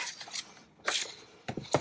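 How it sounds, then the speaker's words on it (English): Scissors snip through paper for a junk journal, a few quick close cutting bursts separated by short pauses, quiet and with no talking. "excuse the noise while I cut some of this"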